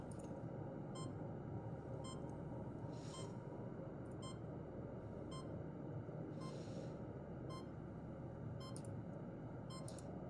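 Medical equipment beeping as ambient map sound in a Fallout: Georgia tabletop session: faint, regularly repeating high beeps over a steady noisy hum, with no talking.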